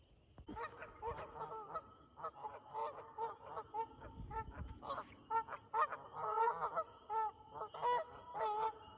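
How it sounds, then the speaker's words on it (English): Several geese in a state park honk repeatedly near a beaver lodge, their loud, overlapping calls coming in irregular bursts, with some quieter background noise between them. "Just beside are some geese hanging out."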